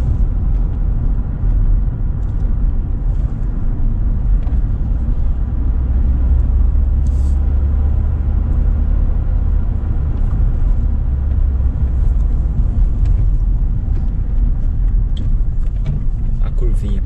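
Car driving in second gear along a rural dirt road, a steady low engine and road rumble throughout with someone talking over it.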